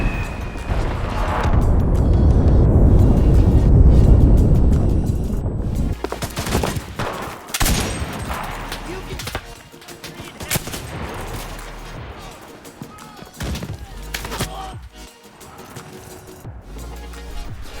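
Battlefield combat in the video game Enlisted: a dense, loud burst of gunfire and explosions up front, then scattered shots, sharp cracks and distant booms continuing at a lower level.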